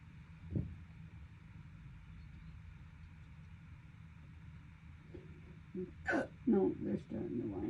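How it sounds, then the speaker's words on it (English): Repeated human hiccups: one sharp hiccup early on, then a quieter stretch of low background hum, followed by a cluster of abrupt vocal hiccups and gasps near the end. "Good holiday hiccups."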